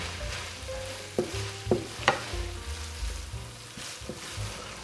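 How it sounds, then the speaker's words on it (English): Bay leaves, cinnamon and oregano being stirred into a sauce in a pan for pastitsio, with a low steady sizzle and a few sharp spoon scrapes against the pan. "Mix them all in well together."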